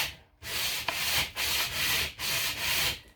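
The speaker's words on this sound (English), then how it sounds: "Just slide your shaft in that sandpaper and" Sandpaper rasps along a wooden arrow shaft in steady back-and-forth strokes, loud and close, five or six rhythmic passes with brief gaps between them and no voices.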